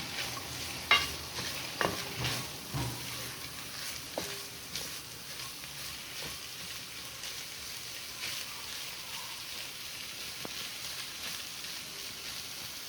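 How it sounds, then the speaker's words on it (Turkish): Chicken fries in butter with a steady sizzle, broken by a few scraping stirs and clinks near the start; no one speaks. "Tavuklarımı ekledim. Birazcık tereyağında çeviriyorum."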